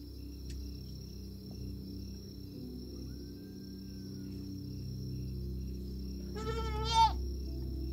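A goat bleats once, a short wavering cry close by near the end, over a steady rural background hum.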